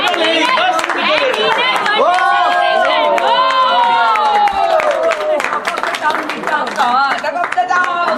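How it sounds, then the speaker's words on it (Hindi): A crowd at a zone event claps and cheers loudly, with excited shouts and whoops rising over continuous clapping, plus scattered voices calling out. "टाउन के लिए जोरदार तालियां।"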